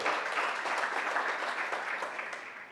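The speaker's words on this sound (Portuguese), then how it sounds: "Dá um aplauso aí" Congregation applauding during a church sermon, a few seconds of steady, moderately loud clapping that thins slightly toward the end.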